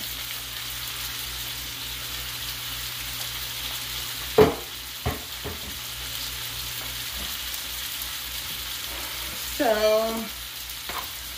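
Cauliflower fries in a pan for a low-carb corned beef and mustard greens dish, a steady soft sizzle running throughout, broken by a few sharp utensil clinks and a brief scrape near the end, with one short spoken word.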